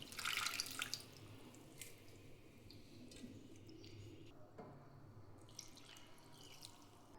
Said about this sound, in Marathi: दोन ते 3 पाण्याने धुवून घ्यायची भाजी.